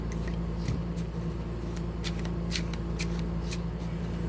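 Tarot cards shuffled by hand during a reading, with a run of crisp riffling flicks and soft card slaps, close and steady over a low room hum, and no one talking.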